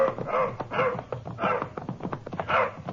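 A dog in a 1950s old-time radio drama barks and yips repeatedly in close, loud bursts, with a whimpering edge between the barks.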